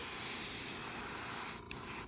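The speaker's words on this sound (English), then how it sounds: "you can actually spray a little bit heavier and it will not affect the adhesion of the paint" Spray paint hisses from an aerosol can onto a shoe in a steady, close, faint stream. The hiss stops briefly and then resumes.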